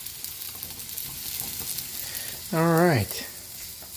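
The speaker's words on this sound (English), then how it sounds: "We got our chicken over here cooking. It's searing over here," Chicken searing in a hot pan on a home stovetop, with pasta boiling nearby: a steady, close crackling sizzle runs throughout, and a short vocal interjection breaks in near the end.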